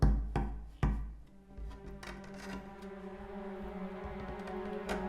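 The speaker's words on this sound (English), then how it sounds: "I kept hearing a knocking." Knocking from an attic in a haunted-house dramatization: two heavy, hollow thuds land close together near the start, followed by fainter taps over a low, droning background.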